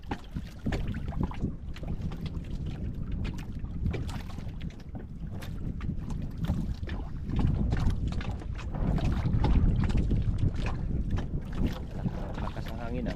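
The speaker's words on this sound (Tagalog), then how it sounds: "Lakas ang hangin ah." Strong wind buffets a small fishing boat out at sea, a constant rough roar of gusts and water noise that swells louder midway, close to the microphone, with faint voices now and then.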